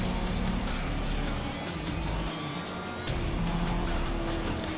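Race car in the PC game Need for Speed Shift, a loud, continuous engine roar rising and falling with gear changes and bursts of tire squeal, with no voices.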